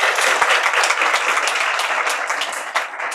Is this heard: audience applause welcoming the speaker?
yes